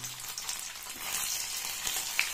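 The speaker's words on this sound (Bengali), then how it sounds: "ছানাগুলো একটু কালচে করে ভেজে নেব।" Pieces of chhena (paneer) fry in hot oil for a grandmother's-style home dish, giving a steady close sizzle that swells slightly and crackles with small pops.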